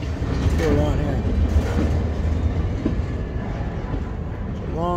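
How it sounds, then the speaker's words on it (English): A single BNSF EMD SD40-2 locomotive hauls a long train in Galesburg, Illinois, wheels rumbling and clacking steadily up close as someone speaks briefly over the noise. "It's a long train here."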